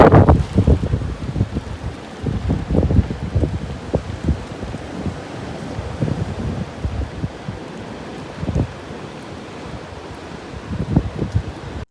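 A strong night storm with heavy rain and gusting wind, shown under street lights, roars steadily and loudly throughout, with rushing noise and occasional heavier gusts and bursts.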